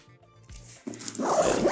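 A zipper is drawn open on an EDC travel bag with a fleece-lined interior. It starts with soft handling sounds, then a close, brighter rasping pull near the end.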